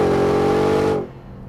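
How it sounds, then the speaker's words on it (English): A loud supercharged engine of a 2024 Ford F-150 Raptor R pickup holds a steady, high-revving whine for about a second, then cuts off sharply and drops to a low idle rumble. "I hear a lot more supercharger inside than I do exhaust."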